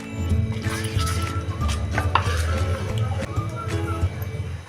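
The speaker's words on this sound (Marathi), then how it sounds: "आणि हे आता चांगलं मिक्स करूया." Rice flour batter with vegetables is mixed by hand for appe, making close, busy wet stirring and scraping with light clattery knocks throughout.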